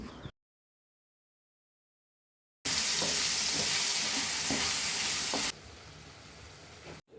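Fish, onion, tomato and spices hit a hot pan with a sudden loud, steady sizzle lasting about three seconds, scattered with small clinks, then dropping back to a quieter hiss.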